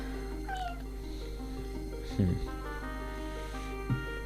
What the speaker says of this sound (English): It sounded like a Mew.